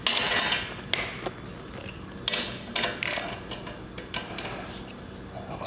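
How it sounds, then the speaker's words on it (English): An axle nut goes back onto the axle of a 1995 Evo Softail motorcycle wheel during a tire change, giving scattered light metallic clicks and ratchet-like ticks over a quiet workshop background. "The axle nut goes back on."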